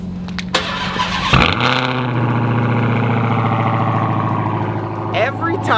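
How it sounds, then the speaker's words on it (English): A Dodge Hellcat's engine cranks and fires on a cold start, flaring loudly before settling into a steady, rumbling high idle that holds close and prominent throughout, with a brief rise in noise near the end. "Let's give her a cold start"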